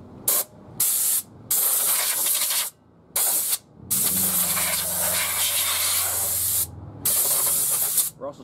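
Compressed air blows off front brake parts on a 1985-1994 Ford F150 4x4, coming as loud, close hissing blasts: several short bursts, then one long sustained spray and a final quick burst.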